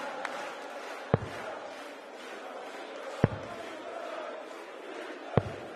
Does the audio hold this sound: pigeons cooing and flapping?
no